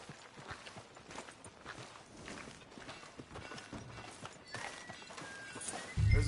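Horse hooves clip-clop at a steady walking pace on a town street in Red Dead Redemption 2, quiet and fairly close, with a louder thump near the end.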